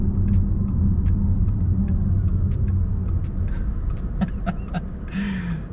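A Porsche engine rumbles deep and loud as the car accelerates, a steady low growl from the cabin with faint ticks and clicks over it toward the end.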